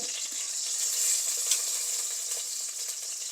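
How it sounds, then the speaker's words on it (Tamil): Brinjal frying in oil for a brinjal biryani hisses with a steady, bright sizzle, close and even throughout, with a faint clink partway through. "இந்த கத்திரிக்காயெலாம் கொஞ்சம் ஃப்ரை ஆகுது ஃப்ரை பண்ண போட்டிருக்கோம்"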